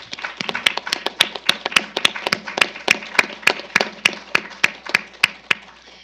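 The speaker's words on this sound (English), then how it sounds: "Let's give them another round of applause." An audience at a panel discussion on adoption and foster care gives the panelists a round of applause: sharp, evenly spaced claps in a steady rhythm for about six seconds, close and clear, with no talking.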